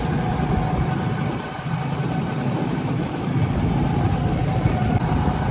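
A go-kart engine drones continuously at a Maryland go-kart track, with an even, rumbling mid-pitched roar and no clear pauses.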